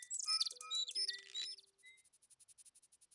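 Toucan calls in the adventure game Indiana Jones and the Fate of Atlantis: a flurry of bright, tinny chirps and squawks, then a quickly repeated series of short, even pips that fades away, quiet and isolated.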